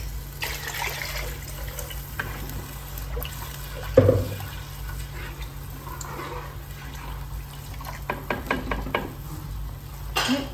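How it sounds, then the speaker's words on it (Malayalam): Water rinsed from a mixer jar is poured into a pot of fish curry made with pepper and coriander, heard as a close liquid splash over a steady background hum, followed by light clinks of utensils. "പിന്നെ ഈ മിക്സിയുടെ ജാറ് കഴിയ വെള്ളമില്ലേ അതും കൂടെ ഒഴിക്കാം"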